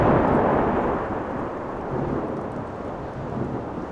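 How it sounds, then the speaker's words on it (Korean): A huge thunderclap rolls over steady heavy rain, bringing a deep ground-shaking rumble. The storm keeps up a continuous, loud, close roar throughout, with no voices. "엄청난 천둥 소리가 땅울림을 동반하면서 일어난다"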